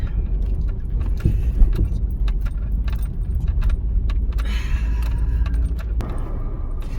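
Vehicle creeping along a rutted, muddy dirt road during spring breakup, a steady low engine rumble with rattling jangles and clunks from the cabin as it bumps over ruts and puddles.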